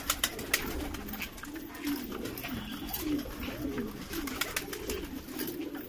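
Madrasi pigeons coo in a steady, repeating low murmur, several birds overlapping at moderate distance, with light scratchy rustling and occasional sharp clicks throughout.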